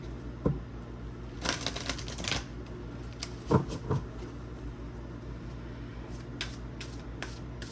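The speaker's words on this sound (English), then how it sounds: "One more shuffle." A deck of oracle cards is shuffled during a card reading, with soft papery riffles and shuffle bursts coming in scattered, quiet clusters separated by near silence.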